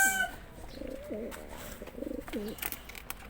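Pigeons coo in several soft, rounded phrases, close by against a quiet outdoor background, with a few faint chirps early on.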